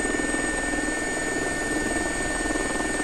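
An air ambulance helicopter in the X-Plane 11 flight simulator, coming in to land on a road: a loud, steady rotor and turbine drone with a constant whine, unbroken throughout, with no voices.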